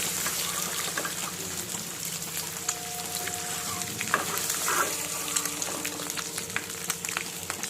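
Eggs fry in hot oil with a steady, close sizzle and crackle, occasional spatters and faint stirring scrapes, continuous throughout with no talking.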